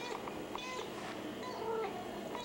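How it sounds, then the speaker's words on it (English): A mother cat meowing in a home, several soft, thin meows at a moderate distance over a quiet indoor background. "Oh, there's a Mama Kitty."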